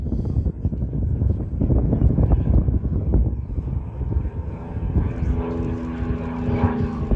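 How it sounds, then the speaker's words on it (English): Propeller airplane droning steadily overhead at an air display at Temora Aviation Museum, loud and continuous with some wind buffeting and the engine tone shifting as it passes. "We have a mixture of aircraft here today for the display."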